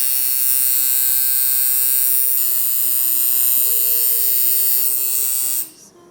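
Coil tattoo machine buzzing steadily and loudly after its spring was changed and adjusted, a dense even electric drone running about 125 to 132 strokes per second, cutting off abruptly near the end.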